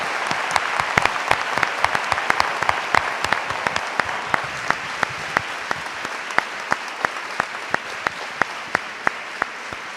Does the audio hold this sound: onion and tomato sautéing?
no